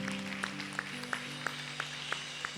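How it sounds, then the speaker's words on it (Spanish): A church congregation claps in rhythm, with sharp, evenly spaced claps about three per second over a sustained tone, probably music, heard faintly at a distance. "Le regala palmas a usted fuerte al Rey de la Gloria."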